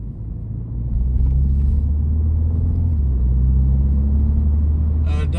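A 2025 Mini Cooper JCW 3-door gives a steady, loud low engine rumble while driving, swelling after the first second and holding constant under way, with a brief hiss of wind or tyre noise near the end.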